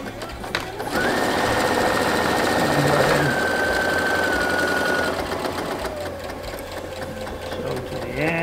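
Sewing machine backstitching elastic on a dress, running loud and steady with a fast mechanical whir and rattle for several seconds, then slowing slightly before stopping, with no talking.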